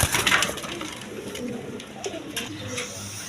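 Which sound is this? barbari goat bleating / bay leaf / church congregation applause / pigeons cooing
pigeons cooing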